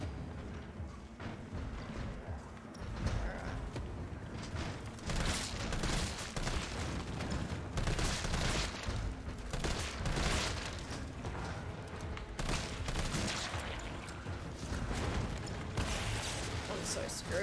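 Explosions and gunfire from a Resident Evil game: repeated loud booming blasts and rattling bursts over a long stretch, mixed with mechanical clanks and a person talking.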